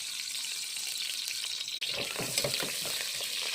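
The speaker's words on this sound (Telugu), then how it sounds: "ఆయిల్ వేడెక్కిన కదా ఉల్లిపాయలు కొద్దిగా వేయగా పచ్చిమిరపకాయలు" Onions and green chillies for a tomato chutney fry in hot oil, a steady soft sizzle that is briefly cut, then fuller bubbling and stirring noise follows, close and fairly quiet with no voice.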